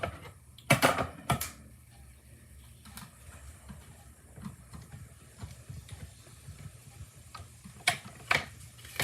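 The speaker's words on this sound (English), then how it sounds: "let's cut out the other sweaters" Scissors cut paper sweater shapes for handmade snowy cards. A few crisp, isolated snips come near the start and again near the end, with quiet paper handling between them and no talk.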